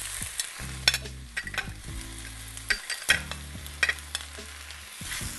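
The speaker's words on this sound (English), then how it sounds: "now it's time to pump in the spinach on one side of my great big pan here" Spinach goes into a great big pan with onion and garlic already frying, and it sizzles there steadily while a utensil clacks and scrapes in repeated sharp knocks and stirring strokes.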